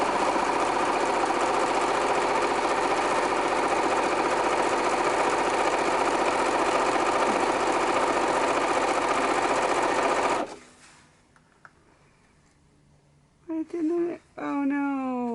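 A sewing machine stitching strips of fabric runs in one loud, continuous mechanical whir for about ten seconds and then stops abruptly, followed by quiet handling and someone speaking.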